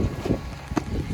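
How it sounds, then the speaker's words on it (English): Strong wind buffets the microphone at a beach campsite on Cape Lookout in the North Carolina barrier islands, a close rumbling, gusty roar with brief thumps. "guess now we have more wind"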